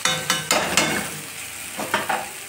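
A spatula stirs cooked vegetables with coriander leaves in a pan, making a series of sharp scraping clatters at an uneven pace over a faint background sizzle.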